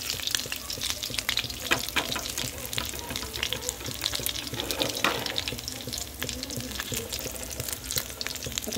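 Bata fish pieces fry in hot oil in a pan with a steady, close, crackling sizzle throughout, broken by brief clinks and scrapes as the pieces are lifted out one by one.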